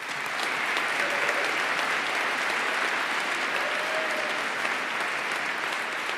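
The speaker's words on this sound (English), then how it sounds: "Let us applaud the accomplishments of all of the graduating master's candidates" Commencement audience applauding graduating master's candidates at a December college ceremony, a dense, steady wash of many hands clapping throughout, loud and sustained from start to finish.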